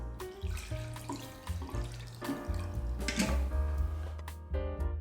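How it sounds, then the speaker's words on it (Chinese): Clean water running from a tap and splashing into a bowl to soak freshly washed gluten for homemade liangpi, a fairly quiet, uneven trickle with small drips and clinks, no speech. "加入清水浸泡上。"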